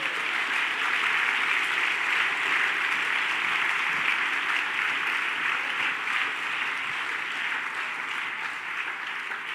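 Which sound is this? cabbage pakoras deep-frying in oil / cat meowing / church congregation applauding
church congregation applauding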